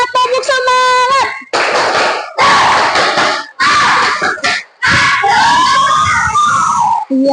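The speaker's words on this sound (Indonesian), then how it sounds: "Tepuk semangat" Schoolchildren in a classroom shout a rhythmic tepuk semangat clapping chant, loud bursts of voices and claps in repeated phrases separated by brief pauses.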